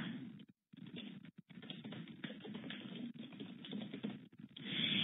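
Steady, close typing on a computer keyboard, a rapid irregular patter of key taps that runs almost continuously with a couple of brief pauses.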